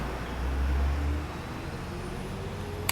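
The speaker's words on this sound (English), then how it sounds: "Here comes a bus." A bus passing on a road, its engine a heavy low rumble that swells loud and close during the first second, then fades into steady traffic hum with a brief sharp click near the end.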